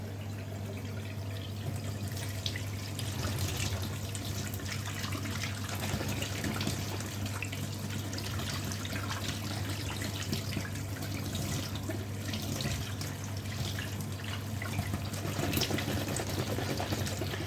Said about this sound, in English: we're going to drain the maize and we're going to drain the kidney beans and wash them